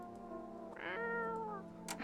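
A video game cat lets out one clear, close meow that rises and trails off, with a faint tick near the end.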